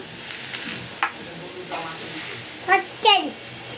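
Grated coconut fries in a wok with a gentle sizzle and a few scraping stirs, while voices, including a child's, talk nearby.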